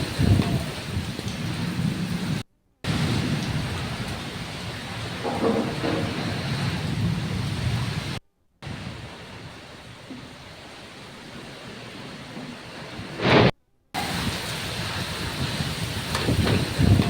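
Heavy monsoon rain with gusty thunderstorm winds in the Rayalaseema region, a loud, steady broadband roar of downpour and wind lasting throughout, broken by a few brief cuts, with no voices.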